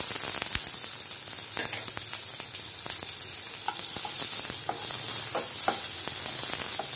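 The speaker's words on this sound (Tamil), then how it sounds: "மீடியம் சைஸ் வெங்காயம் ஒன்று கட் பண்ணி போட்டு ஃப்ரை பண்ணலாம்" Steady sizzling of onions frying in a hot pan, a continuous crackle with scattered pops throughout, close and moderately loud, no voices.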